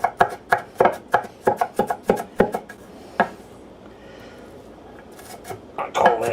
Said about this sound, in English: I do want a pretty fine chop because I don't want giant hunks of onion in the tater salad.